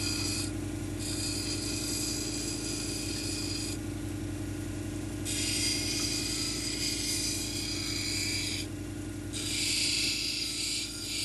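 A stone cabochon's dome is shaped against a grinding wheel, giving a steady motor hum under a harsh rasping grind that swells and drops as the stone rocks on and off the wheel, with no talk.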